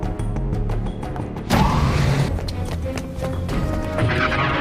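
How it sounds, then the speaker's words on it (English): Star Wars escape pod launch effect, matching the pod from A New Hope: a busy mechanical clatter and whoosh that swells into a loud burst around the middle, then rumbles on with scattered metallic knocks. "That noise is the exact same as the first escape pod we hear in A New Hope."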